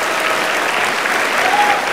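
Dense, steady applause from a large audience at a motivational live show, continuous and loud throughout with a faint tonal whistle near the end.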